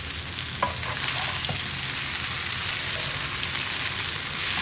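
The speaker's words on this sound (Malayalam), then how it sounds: "അപ്പോൾ ഞാനൊന്ന് നന്നായിട്ട് ഇളക്കിയെടുക്കാൻ പോവാണ്" Noodles stirred with egg and sauces in a hot pan, a steady close sizzle running throughout with a few soft scrapes of the utensil near the start.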